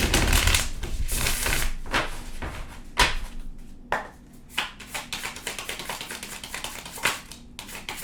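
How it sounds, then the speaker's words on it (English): Tarot cards being shuffled close by, a run of crisp papery riffles and slaps in uneven bursts, with no voice over them. "I'm going to shuffle one more time, then we'll get the tarot."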